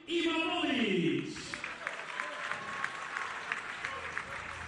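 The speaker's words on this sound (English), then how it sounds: "And a big round of applause here for Sanid Imamovic" Applause from a crowd for a fighter at a KOK World Grand Prix heavyweight kickboxing final, with a loud burst at first that fades into steadier clapping. An announcer's voice runs over it.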